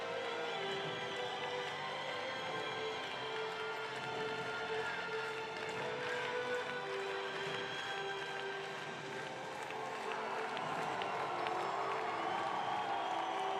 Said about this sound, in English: The 35-year-old, to rapturous applause, receives the medal.